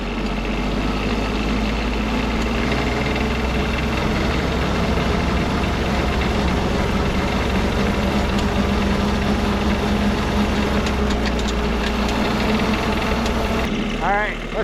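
A custom diesel-engined Power Wheels ride-on running, a loud steady low chugging rumble with rattling vibration that holds throughout and cuts off near the end.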